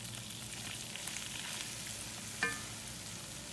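Flour for gravy browns in a hot pan in a Southern home kitchen, giving a steady, soft frying sizzle throughout, with one brief scrape or clink partway through and no talking.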